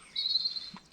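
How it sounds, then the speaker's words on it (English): Birds sing on a quiet morning at a reservoir: one thin, sustained high call runs for most of the second, then ends in a short sharp chirp. It is faint and heard alone. "So quiet. Just the sound of the birds"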